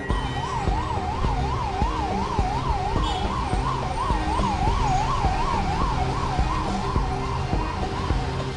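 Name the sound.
ambulance siren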